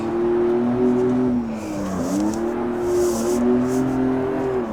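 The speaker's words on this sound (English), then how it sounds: "I'm bogging the engine down that badly because it didn't shift to neutral that time" A car engine in CarX Street bogs down under load after failing to shift into neutral, giving a steady, loud, strained drone with dips and slight pitch wavers, heard alone without talk.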